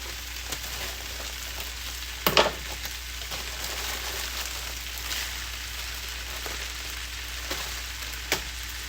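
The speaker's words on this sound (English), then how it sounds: "Now I'm going to add some frozen veggies, peas and carrots." Frozen peas and carrots sizzle in a hot pan with chicken for Asian fried rice, a steady hissing fry like light rain, broken by a few sharp clinks and pops.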